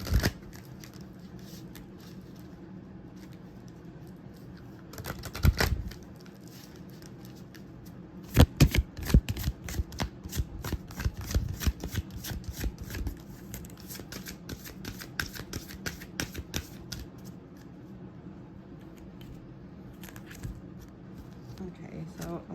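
A deck of crystal oracle cards is shuffled by hand, giving bursts of crisp riffling and flapping slaps that come in clusters and grow busier toward the middle, with steady soft handling noise between them.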